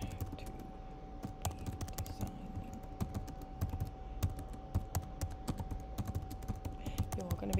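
A card description being typed on a computer keyboard, rapid irregular clicking keystrokes close by over a quiet background hum, with no voice present.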